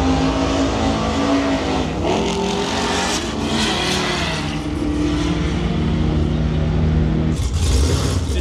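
Rear wheel drive V8 cars at an Australian drag race event roar loudly under hard throttle, engines revving and droning continuously with shifting pitch, close and powerful throughout.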